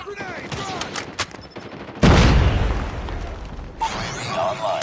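A grenade blast in the Call of Duty Mobile shooter lands as a loud, close boom with a rumbling tail, after a stretch of scattered gunfire pops and game voice callouts.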